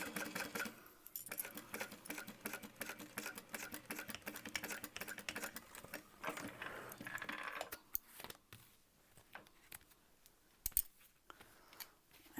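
A sewing machine stitching a bag lining gives off a fast, steady mechanical whirr at close range. It then breaks into scattered clicks and taps as the fabric is handled.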